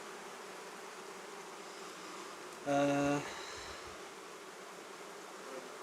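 Honey bees hum steadily around an open beehive during a pre-winter apiary visit, a continuous close buzz, broken midway by one short spoken word over it.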